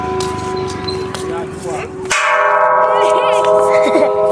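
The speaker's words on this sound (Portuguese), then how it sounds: "Os meninos estão tocando sino ali." Bells rung by boys at a Thai temple in Chiang Rai, sustained ringing tones with a fresh louder strike midway, resonating continuously as a voice talks over them.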